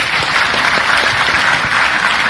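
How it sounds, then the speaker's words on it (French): Dense, steady applause from a conference audience at the opening of an event in Kinshasa, a continuous wash of many hands clapping at full volume with no voices over it. "S'il vous plaît, mesdames et messieurs, applaudissez pour vous."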